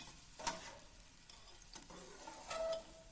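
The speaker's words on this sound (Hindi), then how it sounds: "अब इसमें हम प्याज डालेंगे, इनको फ्राई करेंगे, लाइट ब्राउन होने तक फ्राई करेंगे।" Onions fry in oil for moong daal, a quiet hiss broken by a few sharp stirring scrapes of a spoon against the pan.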